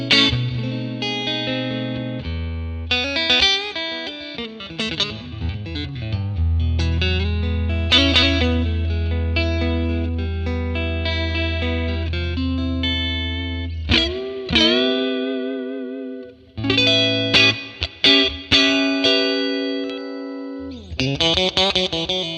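A Stratocaster electric guitar plays a clean funk tone through a 1957 Tweed Bassman amp model with added reverb: choppy rhythmic chords, single-note runs and sustained notes with brief pauses, alone and fairly loud.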